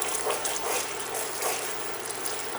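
Water poured into a pan of eggplant, about a cup, a steady close splashing and trickling stream that runs continuously with no talk.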